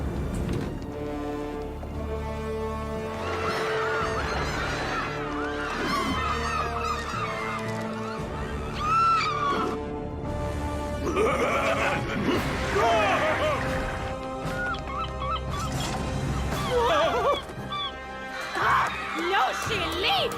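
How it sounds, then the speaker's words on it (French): Seagulls call in a noisy cartoon scene, a flurry of honking, squawking bird cries overlapping one another alongside chaotic background sounds and voices. "Je vais m'occuper des mouettes."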